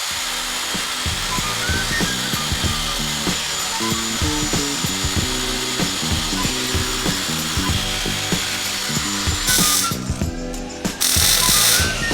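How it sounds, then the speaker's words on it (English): Electric metal shears cut sheet metal during fabrication of a custom BMW E28 widebody, giving a loud, continuous rasping motor chatter with rapid clipping pulses and a harsher burst near the end, with no talking. "I'm gonna cut it out. I talked about this thing in my last video. Like I said, if you guys are a fabricator, these little electric metal shears, the best thing ever."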